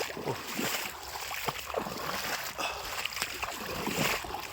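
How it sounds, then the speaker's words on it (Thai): Floodwater flowing over flooded rice fields in rural Thailand, a steady broadband rush with splashy surges throughout, close and fairly loud, with occasional faint voices nearby. "น้ำไหลน้ำไหลพี่น้อง"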